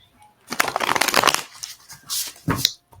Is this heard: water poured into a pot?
no